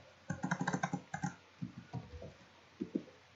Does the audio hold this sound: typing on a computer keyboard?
yes